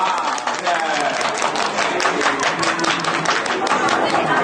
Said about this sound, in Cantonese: 我俾啲觀眾拍掌聲啦，好冇？ 幫我俾掌聲啊！